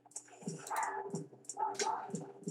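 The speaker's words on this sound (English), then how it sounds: "Sorry for if you hear the dog outside barking." Dog barking outside: a run of short yips and barks repeating about every half second, fairly clear and steady, with no other sound around them.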